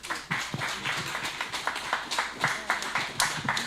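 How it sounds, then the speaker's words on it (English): A crowd at a panel event claps in a round of applause, dense and lively with distinct individual claps standing out, and voices talking faintly underneath. "Round of applause."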